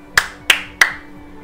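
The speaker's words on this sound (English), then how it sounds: "User claps second time." Three sharp hand claps ring out at an even pace, each a crisp, close, loud slap with a short ringing tail in a quiet room.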